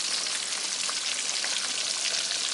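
Polish kotlety cutlets fry in a pan, giving a steady, dense crackling sizzle throughout, close and even, with no voices.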